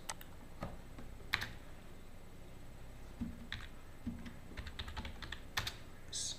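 Soft, irregular typing on a computer keyboard as an answer is entered, with scattered clicks and short bursts of keystrokes over a quiet room background, no voices.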